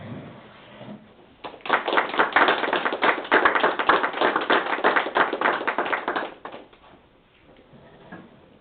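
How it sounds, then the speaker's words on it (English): A room of people at a city council meeting applauds essential and medical workers, a dense steady patter of many hands that swells after a quiet start, holds for several seconds, then tapers off. "Let's stand and give them a round of applause."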